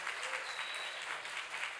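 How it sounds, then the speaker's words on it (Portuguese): An audience at a forum applauds its general coordinator with a short burst of even, continuous clapping that sounds moderately distant and fairly soft. "eu queria uma salva de palmas para Miriam Scavone, que foi a coordenadora geral desse fórum"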